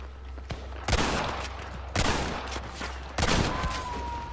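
Three sharp gunshot bursts in Red Dead Redemption Online ring out a second apart over a low steady hum, each followed by a short echoing tail.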